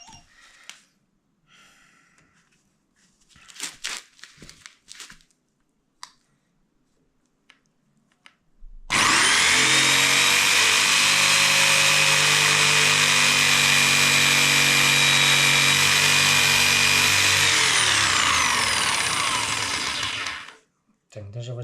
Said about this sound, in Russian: Будем пробовать пилить эту.